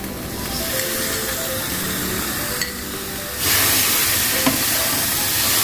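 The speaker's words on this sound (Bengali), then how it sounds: "এবার দই দিচ্ছি, বড় চামচের 3 চামচে দই তো আমি দেবই।" Spiced meat sizzles and hisses steadily in a pan as spoonfuls of yogurt are added and stirred in for a festive meat curry, the frying noise swelling louder and brighter partway through.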